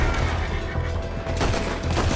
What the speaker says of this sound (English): Tak biasa aku pistol.